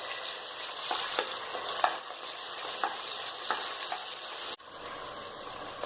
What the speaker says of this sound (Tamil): இப்போ தக்காளி போட்டுடலாம். இதே நல்லா சுருளை வதக்கிடணும்.